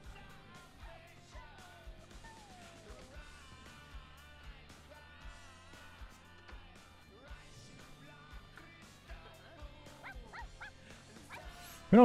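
A dog in The Sims 4 yips, whimpers and barks in short bursts over a quiet game music background.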